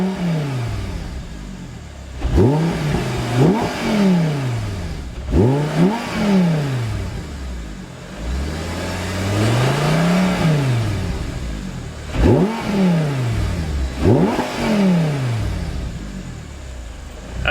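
A freely revving car engine climbs quickly through the RPMs in a series of loud rising and falling rev sweeps, some short blips and some longer pulls, with no talking.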